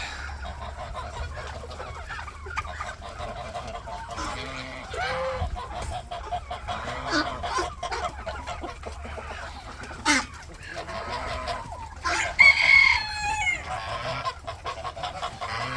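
Chickens cluck and geese honk in a busy farmyard chorus of about 200 mixed poultry including turkeys, with scattered calls near and far and a few louder squawks toward the end.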